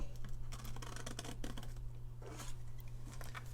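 Scissors snipping through a paper tile cap template, a run of soft irregular cuts and scratchy rustles over a steady low hum.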